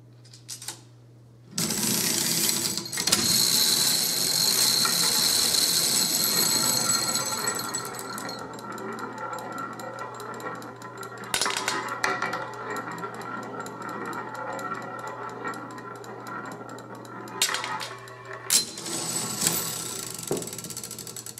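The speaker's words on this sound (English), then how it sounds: "here's a shot of the mechanism which actually raises and lowers the wheel" Mechanism of a Caille coin-op roulette machine raising and lowering its wheel, giving a steady mechanical whir with ratcheting clicks and gear noise, loud early on, then softer with occasional clacks, under a constant low hum.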